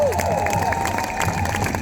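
A protest rally crowd keeps applauding and cheering, a dense wash of clapping and scattered shouts with a voice briefly audible, then cuts off abruptly.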